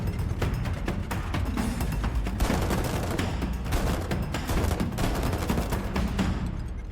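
Army machine guns fire in sustained, rapid bursts, a loud and dense rattle of gunfire that continues without pause and carries a steady heavy rumble beneath the shots.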